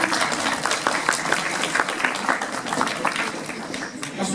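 A crowd at a convention talk at an Asian culture expo in Chalon-sur-Saône gives a short round of applause, with continuous overlapping claps at moderate volume and some voices murmuring through it.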